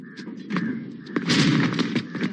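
A gunshot from a real gun, not a festival toy, goes off in a Kannada underworld film scene: several sharp, loud cracks and thuds in quick succession, with background noise and a little talk around them.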